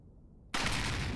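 A sudden loud gunshot in Resident Evil 4 bursts out of quiet and is followed by a sustained, dense rumble of noise, close and without speech.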